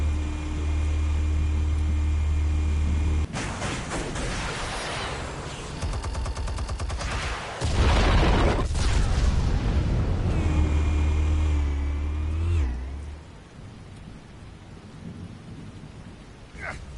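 Heavy booming blasts from explosives detonating in a Batman video game, loud and rumbling in long roaring bursts with crackling debris, then fading into low rumble.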